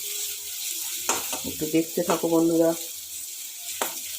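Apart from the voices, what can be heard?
eggs frying in a pan for egg curry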